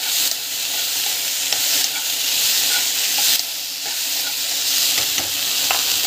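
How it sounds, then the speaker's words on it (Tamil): Okra (ladies' finger) stir-fries in a pan with a constant close sizzle, punctuated by rhythmic spatula scrapes and tosses that make the hiss surge and dip. "ஸோ வெண்டைக்காய் வந்து இந்த மாதிரி வறுத்துக்கணும்"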